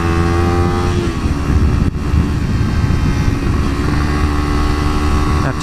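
A Ninja 300 motorcycle engine under way on a winding mountain highway, a loud continuous drone close to the rider with wind rush and a steady, slightly shifting pitch.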